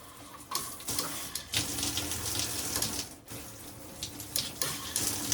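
Water streams from a WaterPik shower head set to a tight jet, a steady hissing rush with brief dips and surges as the flow shifts, close and loud with no one talking.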